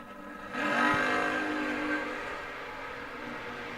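Bracket drag racing cars at a racing event, including a big Mopar, roar past with a rising engine surge that peaks and then fades into a lingering distant rumble.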